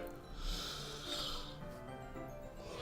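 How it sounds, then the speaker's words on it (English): A person gives a long, breathy yawn with a low, groaning voice. It is close and fairly quiet, over faint steady background music. "Oh, I'm really sorry for the yawning."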